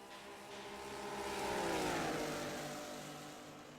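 A race car engine at Mount Panorama accelerates out of a corner, swelling to a peak and fading as it passes, a single loud revving sweep with no talk.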